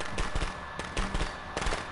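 Firecrackers thrown in a video game pop off in a rapid, crackling string of sharp bangs, loud and close, continuing across the moment with no talk over them.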